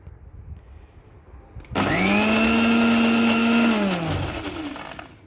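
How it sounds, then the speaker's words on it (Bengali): A blender whirs loudly for about two seconds after a quiet start as oil is beaten into homemade mayonnaise, its motor holding a steady whine before winding down near the end. "দিয়ে আমি আবারও এটাকে 1 মিনিট বিট করে নেব"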